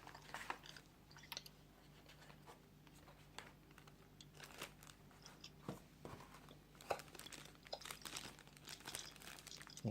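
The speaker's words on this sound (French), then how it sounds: "Donc on va ouvrir la boîte d'accessoires." Cardboard and plastic packaging crinkle and rustle as a box of camera accessories for a VTIN 1080P 12MP action camera is opened, with irregular soft crackles and taps close by throughout.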